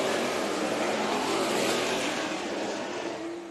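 Race cars roar around Kern Raceway in Bakersfield during a heat race, engines loud and sustained at close range, a dense continuous wall of revving that eases slightly toward the end.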